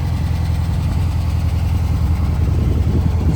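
A 1964 Volkswagen Beetle's air-cooled engine idles steadily and close by, a loud low throbbing rumble with an even, unbroken rhythm and no one speaking.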